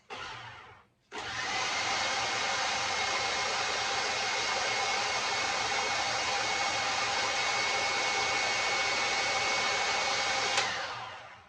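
A food processor blends pesto with cheese in one loud, steady motor whir that starts after a brief pause and runs continuously for about ten seconds before cutting off, with no talk over it.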